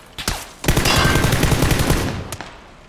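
Rapid bursts of automatic gunfire in PUBG, a few sharp opening shots followed by a sustained rattling volley and one last isolated shot, loud and with no talk.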